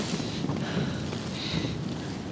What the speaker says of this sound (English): That's what you call a gust.